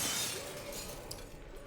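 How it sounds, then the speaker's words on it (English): An elevator smashing through glass in the Half-Life Vertigo mod, a sharp shatter that fades into tinkling shards, with no talk over it. "This is the only elevator in the world that smashes it."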